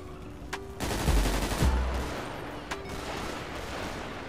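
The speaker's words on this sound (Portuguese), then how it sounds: "Tu deu tiro, cara?" Gunshots ring out at a street dispute in a Brazilian favela, two sharp distant cracks followed by a loud burst of rapid booming blasts, then another isolated crack, outdoors with faint background noise.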